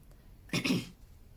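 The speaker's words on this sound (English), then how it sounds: "I'm just clearing my throat so I can keep reading." A single short throat clearing, a rough guttural rasp up close, with quiet room tone before and after.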